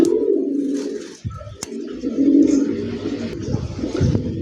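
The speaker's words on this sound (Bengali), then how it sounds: "বামে পায়রা বামে পাইরি, ডানে বামে পায়রা ডানে পাইরি" Pigeons cooing in a breeding loft, including Rajshahi Giribaz and large racers, with repeated close, deep throaty coos overlapping throughout and a brief sharp click partway.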